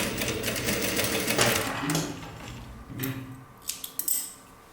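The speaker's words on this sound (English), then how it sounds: "At the end here you sew to fix them together." A sewing machine stitches fabric for a square neck top with puffy sleeves, running in a steady close whir that slows and stops, followed by a few metallic clicks and rattles.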